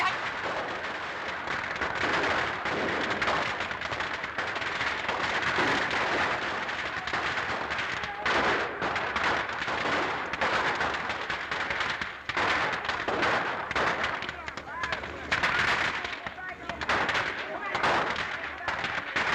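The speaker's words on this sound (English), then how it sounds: "In fact, maybe machine gun, huh?" Rapid gunfire from a 1936 Charlie Chan race-track mystery film, dense bursts of shots running loud and continuous throughout, with dialogue mixed in underneath.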